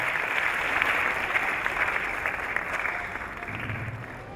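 Audience applauding at a church diploma ceremony in Togo, a sustained, dense burst of clapping from many hands, loud and steady before tapering slightly at the end.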